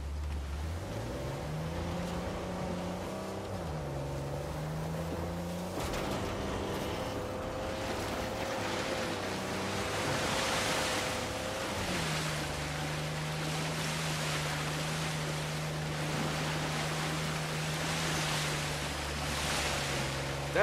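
A waterfall in the game Uncharted 4 rushes with a continuous, broad wash of falling water, steady and moderately loud, mixed with low droning engine-like tones that shift in pitch.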